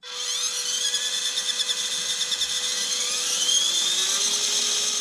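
A small 130-size electric motor in an MN-90 1/12-scale Land Rover D90 RC truck whines at a high pitch, rising and wavering as the throttle varies, loud and close with no talk.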